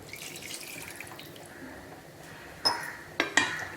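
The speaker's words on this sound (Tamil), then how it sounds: "இதில் இன்னும் கொஞ்சம் தண்ணி ஊற்றி கரைச்சி ஊற்றிக்கலாம்" A quiet background hum gives way to a few short splashy pours of water into a pressure cooker of brinjal curry near the end.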